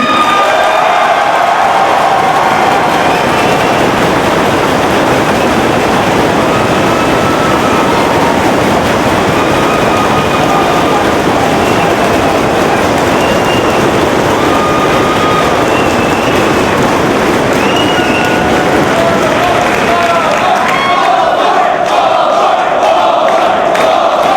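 Wrestling fans at a Ring of Honor show roar, cheer and applaud for the Big Boss Man, a loud, dense, unbroken wall of clapping and shouting that stays strong throughout before easing near the end.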